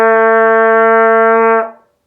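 One steady, bright trumpet tone with all valves up holds for about a second and a half, then cuts off cleanly, leaving silence.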